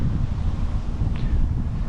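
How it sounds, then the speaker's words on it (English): Wind blowing outdoors in a yard among fallen leaves, a steady low rumbling buffet of gusts across the microphone, fairly loud and continuous with no talking. "you can see it's a bit windy right now."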